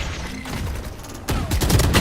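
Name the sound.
missiles fired in a video game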